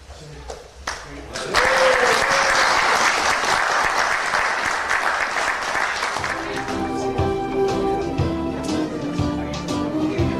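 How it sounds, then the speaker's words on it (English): Audience applause at an Ulster Society of Magicians magic show and competition: loud, dense clapping breaks out after a few scattered claps, then fades under someone talking as tonal stage music comes in. "please be quick with your applause because it doesn't last very long"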